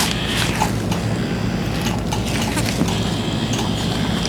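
A tattoo machine fitted with a 5-round shader needle buzzes close and continuously with a fast, even mechanical rattle, and no voices are heard.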